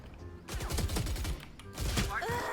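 Phantom rifle gunfire in the video game Valorant, a rapid burst of loud, close shots firing in quick succession, pausing briefly and then resuming with a second burst.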